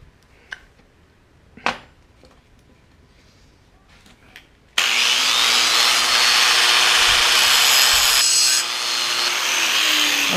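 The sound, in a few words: grinding down the tang of a Bowie knife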